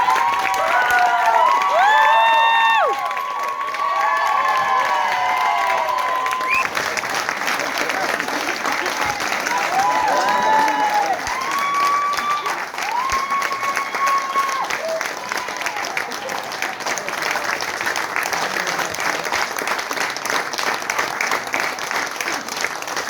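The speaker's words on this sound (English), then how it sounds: "I just want to give another round of applause" Audience applause with cheering and shouting at a live show, loud and dense at first, then continuing as a long sustained round of clapping while voices call out over it.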